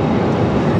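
Jet airliner cabin noise from a Juneyao Airlines flight landing at Guilin, a steady loud broadband roar throughout with no distinct touchdown thump.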